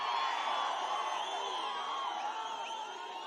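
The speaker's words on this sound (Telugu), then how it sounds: "గట్టిగా చప్పట్లు కొట్టి" A large crowd at a political rally in Anantapur district roars with cheering and whooping, a dense, continuous wall of voices that stays loud throughout and eases slightly toward the end.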